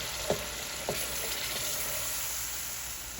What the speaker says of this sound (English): Just going to sweat out all that garlic. And we're going to get the tomato sauce right in there.